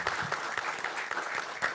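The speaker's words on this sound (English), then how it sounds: "Can we give a round of applause, by the way, to the guide program?" Audience applause for the EverQuest guide program at the Fippy Fest 2024 gathering: a dense, steady round of clapping from a crowd, fairly close and continuous throughout, with a faint voice underneath.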